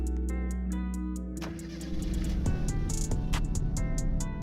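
A Land Rover engine in a driving video game cranks and starts, then settles into a steady idle with ticking clicks over it; close and fairly loud.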